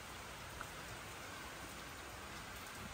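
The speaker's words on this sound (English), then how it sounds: "And it is extremely dark and rainy out there." Steady rain falls outside on a dark day as a dense, even hiss. It runs unbroken and fairly quiet, with no talking.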